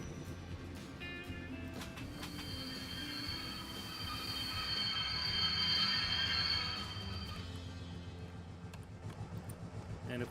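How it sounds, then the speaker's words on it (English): Train slowing to a stop in the railway game Infinite Rails, a steady rumble of wheels on track with a rising metallic brake squeal in the middle that fades out, heard alone at moderate loudness. "Then we'll stop our train just past this signal."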